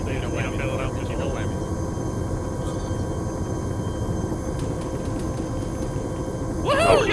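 A Chinook helicopter in the military video game Arma 3 drones with a steady, loud rotor and engine roar throughout, a swell near the end, with voices talking over it.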